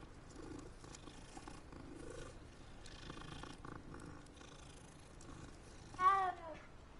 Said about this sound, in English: Look at the kitty cat!